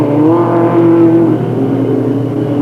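Race cars roar together around the short oval at Delta Speedway in 1996, a loud, continuous engine drone with a rising whine, close and steady throughout.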